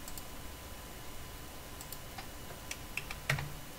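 Typing on a computer keyboard while entering a username and password into a login form, a faint, sparse run of light key clicks over quiet room hiss with no talking.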